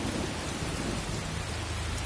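Steady rain with low rolling thunder in the Skyrim video game at nightfall, a dense continuous wash of rainfall over a deep rumble, heard alone with no talking.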